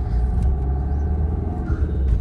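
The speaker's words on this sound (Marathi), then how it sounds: "फुल ट्रॅफिक झाले बाई." Heavy road traffic on a congested route, a close, steady low rumble of passing vehicles with slight swells as individual cars go by and no speech.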